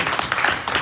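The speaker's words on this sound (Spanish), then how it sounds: "Dar un aplauso a Dios de verdad" Applause rises briefly from a church congregation during a Bible study service after a baptism announcement, a short burst of clapping with faint voices mixed in.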